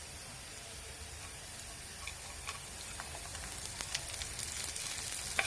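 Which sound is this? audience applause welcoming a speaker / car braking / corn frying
corn frying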